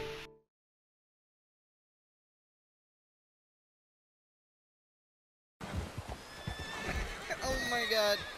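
A Red Dead Redemption 2 horse whinnies loudly after a long silence, followed by busy clopping hooves and game noise that continue to the end.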